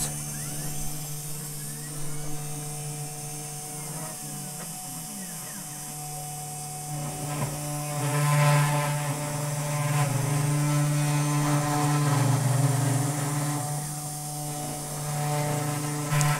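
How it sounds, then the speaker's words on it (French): An Alfawise C10 desktop CNC engraver's spindle motor runs with a steady, fairly loud whine and electrical hum, joined by layered tonal buzzing and some mechanical rattles that swell in the second half as the machine works. "Je vais activer le moteur. Je confirme que c'est activé et je débute."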